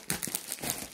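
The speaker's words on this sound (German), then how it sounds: "Ich kämpfe noch mit der Tüte." A plastic mail bag picked up from the post office is crinkled and crumpled while someone struggles to tear it open, with close, steady rustling bursts and no talk.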